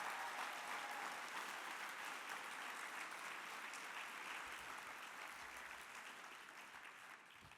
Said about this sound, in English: She deserves a giant hand of applause for it.